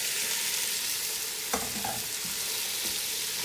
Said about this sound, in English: The beans are well rinsed. We're going to add them to the pot.